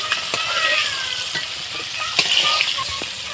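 Panch phoron seeds and dried red chilies sizzling in hot oil, a bright continuous crackle with sharp pops and spits scattered throughout, close and fairly loud.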